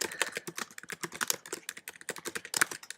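Rapid, continuous tapping of keys on a computer keyboard while a tweet is typed, close and moderately loud, with no voices.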